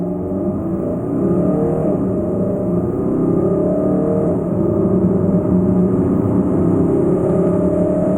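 A 2016 Volvo XC90 D5 AWD diesel accelerating hard, with a steady loud engine drone mixed with road and wind roar heard from inside the cabin.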